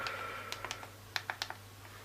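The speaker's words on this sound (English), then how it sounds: "Typing is as easy as it would be on a normal physical keyboard." Keys click on a small NUU MiniKey physical keyboard for the iPhone 5, a quick run of light, sharp taps in an uneven rhythm, close and quiet.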